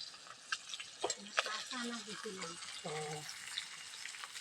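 Fish frying in a pan at home, a soft continuous sizzle that stays under nearby voices speaking throughout.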